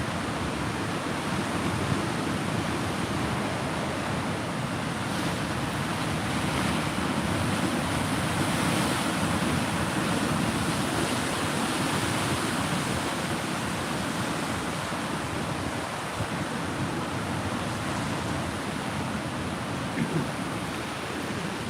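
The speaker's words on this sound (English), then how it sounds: "still just watching some pretty amplified waves, it looks like" Amplified ocean waves surge and wash continuously along the Northern California coast during a tsunami advisory, a broad steady roar of surf with some wind rumble on the microphone throughout.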